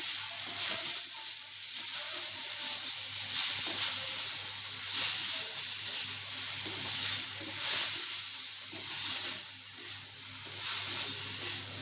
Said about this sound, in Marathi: टोमॅटो असं परतून घेऊया आणि थोडं परतल्यानंतर काढून घेऊया.